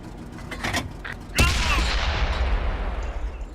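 In World of Tanks, a tank cannon fires at a Super Pershing T26E4: a few faint engine and gunfire thumps, then one loud close blast with a long rumbling tail.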